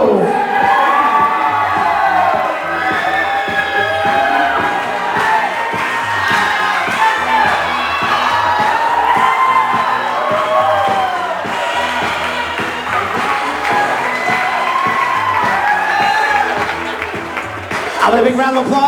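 Wedding guests cheer loudly as a bridesmaid and groomsman enter. Whoops, shouts and excited voices rise and fall over scattered clapping, and the noisy crowd energy lasts for the whole stretch.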